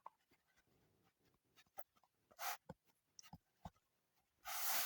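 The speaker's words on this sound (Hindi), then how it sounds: "देखिए यहाँ पर हम लिखते हैं इंडियन मॉडल" Chalk or marker taps and scratches on a board during a lesson, in short bursts and separate strokes, close and fairly faint, with a few louder brushing swipes.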